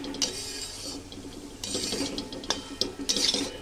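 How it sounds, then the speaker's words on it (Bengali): A spoon stirs mixed vegetables, tomato and whole green chillies in a cooking pot, giving a few wet scraping strokes and clinks, close up, with no one talking. "আবারও খুব ভালো করে নেড়ে দেবলাম"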